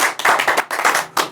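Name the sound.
clapping for the viewers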